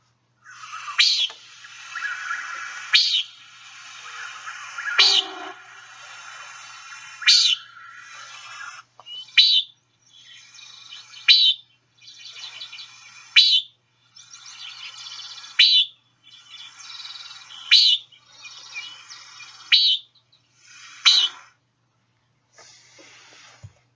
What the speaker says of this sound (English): So here's a nighthawk doing the painting and the booming.